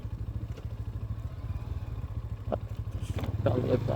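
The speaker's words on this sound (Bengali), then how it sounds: "বাইকটা খালি গের গের করতেছে" A poorly serviced motorcycle, missing the rubber under its tank, putters steadily while the bike rattles and clatters over a broken road, with a few sharp knocks toward the end.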